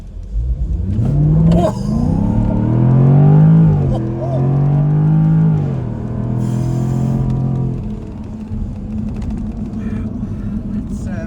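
A Jaguar F-Type R P450 engine accelerating, heard from inside the car as a loud, rising then falling rev that climbs through gears before settling to a lower hum, with voices alongside.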